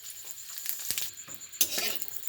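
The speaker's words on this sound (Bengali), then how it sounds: "কড়াইতে দিয়ে দিচ্ছি সর্ষের তেল শুকনো লঙ্কা সাদা জিরে" Dry red chilies and cumin seeds frying in hot mustard oil in a wok, a steady close sizzle with a couple of brief louder spits.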